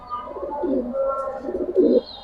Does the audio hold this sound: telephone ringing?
no